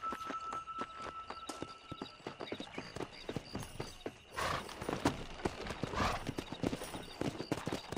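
Horses gallop in the Red Dead Redemption video game, a fast and fairly faint clatter of hooves with overlapping rhythms from several riders, and a brief whinny early on.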